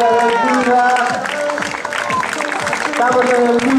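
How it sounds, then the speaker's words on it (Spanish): At a popular footrace in Moraña, spectators applaud a runner in a white shirt. Steady clapping and light cheering carry along the course, mixed with voices talking over it. "Aplausos para el corredor de la camisola blanca"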